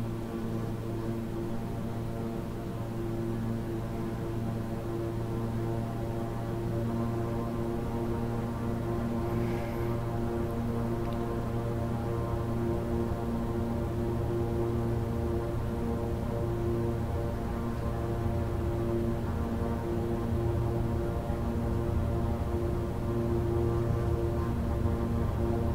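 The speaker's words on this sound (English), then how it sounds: "It's harder to keep the plane going straight down the runway than I expect." A King Air 350i twin-engine turboprop rolls down the runway in Microsoft Flight Simulator, with a steady, loud engine drone and a strong low harmonic hum that holds unchanged throughout.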